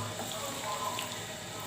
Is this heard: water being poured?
yes